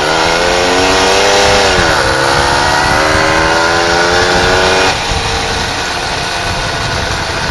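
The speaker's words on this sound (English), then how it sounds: "Oh wait, that's the train up in front of me at 12 o'clock." A loud, steady rumble of a passing train in a video game, with a harmonic engine drone that bends in pitch midway, then settles into a lower, continuous hum.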